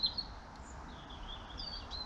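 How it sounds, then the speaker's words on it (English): A small robin sings faintly in a garden plot, thin high chirps over a soft, steady outdoor background hiss, distant and without talking. "a little robin there, very chipper."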